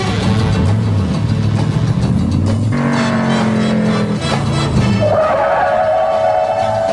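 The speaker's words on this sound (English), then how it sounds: "This 442 stopped from 30 miles an hour in 37 feet." A 1971 Oldsmobile 442 W-30 convertible with a 4-speed, braking hard from speed to a stop: a loud, sustained engine and tire drone that changes pitch midway, ending in a rising whine.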